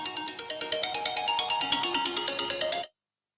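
A phone ringtone plays on an outgoing call: a rapid, steady electronic trill repeats for about three seconds, loud and alone, then cuts off abruptly into silence.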